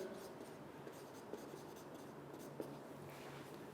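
A marker or chalk writes on a board during a chemistry lecture, giving faint, soft scratching strokes with a couple of small taps against a quiet room hum.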